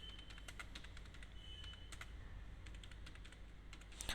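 Quiet, rapid clicking of a computer keyboard as text is typed into Tally Prime accounting software, a steady run of light keystrokes close by with no talking.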